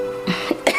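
A person sick with a cold gives three short, rough coughs in quick succession, fairly close and fairly loud, with faint background between them.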